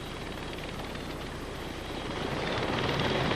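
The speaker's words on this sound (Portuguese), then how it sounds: "O helicóptero paira no lugar exato." A helicopter hovers in place during a rescue operation, its rotor and engine a loud, dense, continuous roar that swells slightly louder toward the end.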